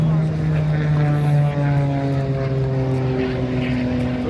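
Four-engine propeller cargo plane at the MCAS Cherry Point air show, a steady droning engine hum with layered propeller tones holding loud and close throughout, with talk nearby.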